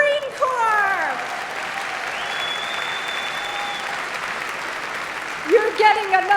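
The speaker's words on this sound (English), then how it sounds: "You're getting another huge round of applause from New York" At a gala, a large crowd gives a long run of applause, steady and full, with brief voices at the start and at the end.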